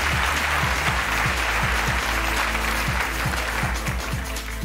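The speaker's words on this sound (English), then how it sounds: "Give a huge round of applause once again to Sandra." An audience at an awards ceremony gives sustained applause. The clapping is loud and dense throughout, with a rhythmic music bed underneath.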